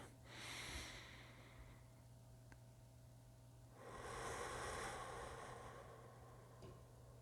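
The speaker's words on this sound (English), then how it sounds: "We're gonna take one meditative breath, okay?" Someone takes one slow meditative breath, a soft airy inhale followed after a pause by a longer exhale, faint and close against a steady low hum.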